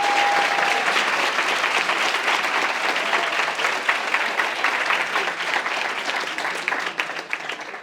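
A crowd applauds at a university campus political rally, with dense, loud, sustained clapping that carries on evenly from start to finish.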